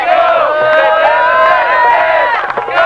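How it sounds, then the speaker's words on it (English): Rugby league crowd at a 1998 Mediterranean Cup match between Italy and Lebanon roaring jubilantly, a dense, sustained mass of cheering and shouting voices with no break. "Look at the jubilation in this crowd, Don."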